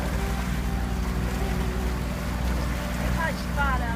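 A sailboat motoring under engine power on Boca Ciega on a calm, windless day gives a steady low engine drone with water and wind noise, and faint voices come through in the background.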